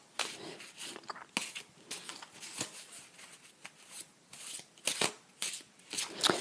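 A deck of oracle cards is shuffled by hand, close up and quiet. Soft papery riffles and taps come in uneven bursts with brief pauses between, and nobody speaks.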